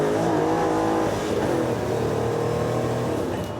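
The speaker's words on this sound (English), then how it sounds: "Surely the best sounding Defender on the planet." Land Rover Defender with a 6-speed automatic gearbox revving hard while driving, a loud, continuous engine roar with rising and falling pitch across gear changes, no talking.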